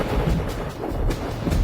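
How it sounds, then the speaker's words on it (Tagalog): Low thunder rumbles continuously at a film shoot before rain, a deep, fairly loud roll with no distinct claps. "Kumukulog. Kailangan na nating bilisan ang pag-shoot, mukhang uulan na."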